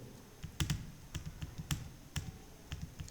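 Keys on a computer keyboard clack in a light, irregular run of close, soft taps with short pauses between strokes while someone types into a spreadsheet, quiet and with no talk.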